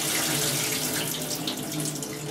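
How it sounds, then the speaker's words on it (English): Water and loose pomegranate seeds poured out into a kitchen strainer, a steady, close rushing splash like a running tap, continuous and unbroken throughout. "And then what you want to do is take your strainer, and you're just going to pour it all out."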